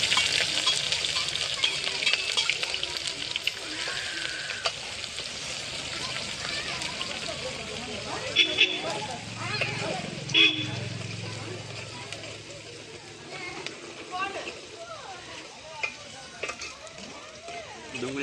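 Onions for undhiyu fry in a pot over a country clay stove, giving a continuous sizzle with scraping spoon strokes and a few louder clatters as they are stirred, while a person talks intermittently.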